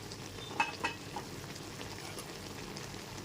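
Malabar spinach and mixed vegetables are turned in a pan, a couple of sharp spoon clinks up front giving way to a low, steady simmering hiss; close and fairly quiet, no talking.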